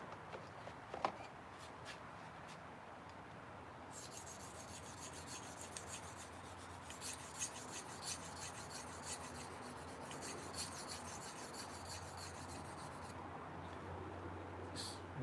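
A blade is drawn across a sharpening stone in a run of quiet, close rasping strokes with a gritty rubbing texture, with no talk over it.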